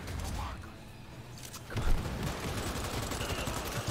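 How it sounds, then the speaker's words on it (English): Assault rifle fire in the Cyberpunk 2077 video game crackles in a dense, rapid burst that grows louder partway through, with game ambience and a player talking around it. "It's an assault rifle."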